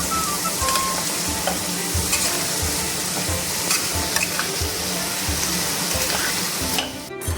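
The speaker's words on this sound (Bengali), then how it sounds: "লঙ্কা দিলাম লঙ্কাগুলো দিয়ে আবারও নেড়ে করে নিচ্ছি কিছুক্ষণ" Young jackfruit and potato chunks fried with chillies in a frying pan and stirred briskly: loud sizzling with rapid, rhythmic spatula scrapes close up, stopping abruptly just before the end, with no voices.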